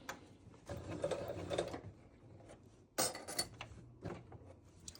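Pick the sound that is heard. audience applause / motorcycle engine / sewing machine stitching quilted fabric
sewing machine stitching quilted fabric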